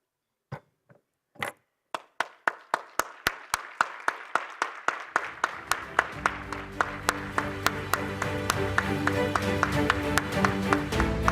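Audience applause at a Nobel Peace Laureates summit in Gangwon, starting with a few isolated claps and swelling into steady, dense clapping from the standing crowd that builds in loudness toward the end.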